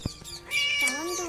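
A kitten in a video game gives a long, clear, rising-and-falling meow after a soft tap, close and alone with no talking.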